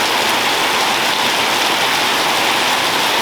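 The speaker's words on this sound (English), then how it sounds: "And here comes the rain again." Steady monsoon-season rain falls outdoors near a shed and tiled back patio, a dense, even hiss of drops on surfaces that stays loud and unbroken throughout, with no talking.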